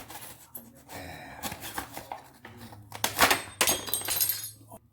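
A Kershaw Blur knife slicing apart a package, with close, bursty tearing and crackling of packaging material that comes in uneven rough strokes, loudest near the end.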